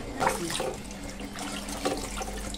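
Tap water runs steadily into a sink as fish are rinsed with salt and turmeric, a continuous near splashing stream with small surges and splatters and no voices.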